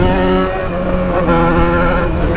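A Yamaha XJ6 motorcycle engine revs loudly and steadily up close, its tone wavering as a faulty throttle is worked on a city avenue, with no voices over it.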